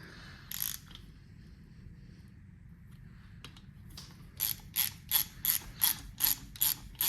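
A hand ratchet tightens the rocker arms on a Nissan KA24 engine under rebuild; after a quiet stretch and a brief click, rapid bursts of ratcheting clicks repeat in an even rhythm, close and crisp, with no speech.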